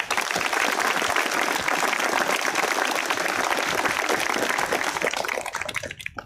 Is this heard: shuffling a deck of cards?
no